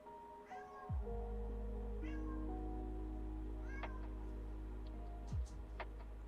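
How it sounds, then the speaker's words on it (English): A pet cat meows indoors several times, short rising calls spaced a second or two apart, close by over a steady low electrical hum, with no talking. "Oh, here I hear my kitty cat."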